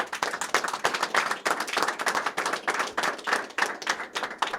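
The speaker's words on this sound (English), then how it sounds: "I think we owe Mac a round of applause for his great work" A gathered audience gives a round of applause at a county funding announcement, a close, lively patter of clapping with uneven bursts that rise and fall throughout.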